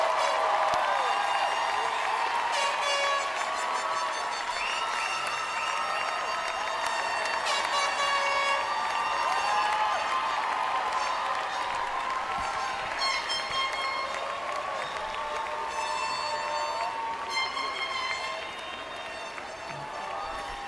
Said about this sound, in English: Let's all give a round of applause to the class of 2010.